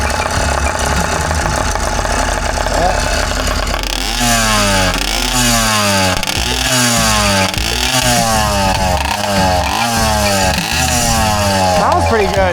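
A 100cc motorized bicycle engine runs loud and close, first a steady low drone, then from about four seconds a rattly two-stroke chatter that rises and falls in repeated revving sweeps.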